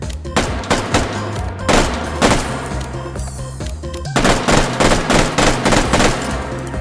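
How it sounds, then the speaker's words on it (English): A FAMAS rifle firing in the video game H3VR: loud, close, crisp shots in quick clustered groups, bursts separated by brief pauses, with no voices. "the FAMAS is known as a burst weapon"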